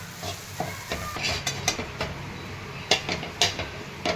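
Leftover chapati pieces being stirred in a pan with salt, a spoon scraping and clinking against the pan in irregular strokes over a light sizzle, close and alone.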